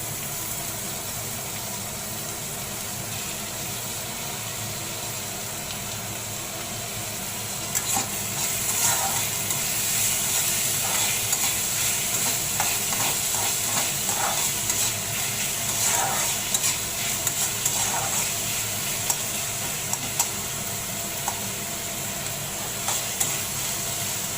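Onion and tomato frying in a pan for a dry clam dish, a steady close sizzle and hiss with stirring scrapes that grows busier and louder partway through as the tomato goes in.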